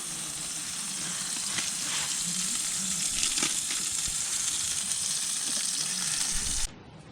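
Bread toasting in a pan at a mountain campsite before a summit climb, a steady close sizzle and crackle of frying that runs evenly for several seconds and then cuts off abruptly.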